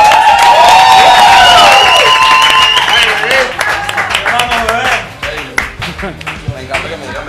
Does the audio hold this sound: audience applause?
yes